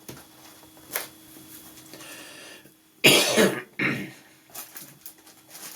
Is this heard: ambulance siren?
no